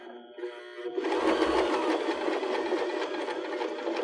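A sewing machine stitches a cork fabric applique onto a pillow, starting after a brief hum and then running as a steady, rapid mechanical whir close by, with no talking.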